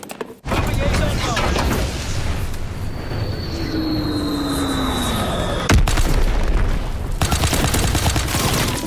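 A bombing run explosion in Call of Duty: WWII: a continuous loud rumble of blasts and gunfire, with falling whistles overhead and a sharp crack partway through.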